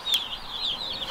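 Cornish cross chicks chirp in a continuous high-pitched chorus of wavering peeps at close range.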